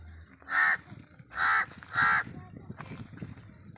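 A crow known for mimicking speech in a village in Wada, Palghar district caws three times, loud and close, with fainter calls after and murmuring people in the background.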